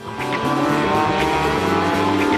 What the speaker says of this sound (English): the ex-Wayne Taylor 1991 Intrepid Chevrolet, which that year took more IMSA poles and fastest laps than any other car